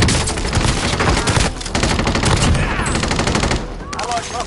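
Loud, dense automatic gunfire from the Call of Duty Warzone Resurgence battle-royale game, with rapid bursts filling nearly the whole stretch and a brief lull near the middle before firing resumes.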